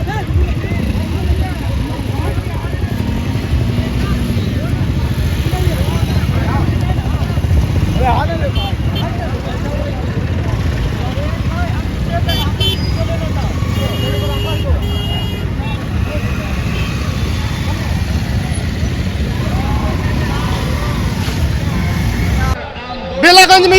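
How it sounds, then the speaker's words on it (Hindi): Motorcycles of an AIMIM political bike rally in Belaganj rumble past on a road in a continuous engine drone, with occasional horn toots and crowd noise, and people talk throughout. "एमआईएम बाइक रैली कर रही है"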